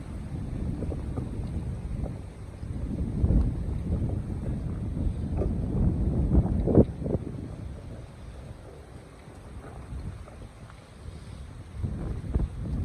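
Strong late-afternoon wind sweeping leaves across a mountainside makes a constant, loud, blustery rumble with rustling gusts rising and easing throughout.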